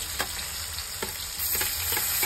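Chopped onion fries in hot oil in a pan and is stirred until golden. There is a constant close sizzle, with a spoon scraping through it every half second or so, and no voices.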